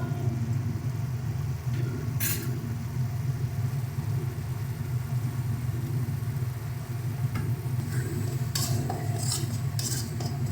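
Spice paste with salt for a pabda fish curry is stirred in a pan, soft scraping and low sizzle under a steady background hum, with a few sharp utensil clinks near the end.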